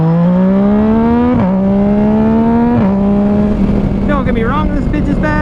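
A 2019 Yamaha MT-09 in ice fluo on the move, its engine a loud close drone that climbs through the gears with short dips at each shift, and a rider talks over it.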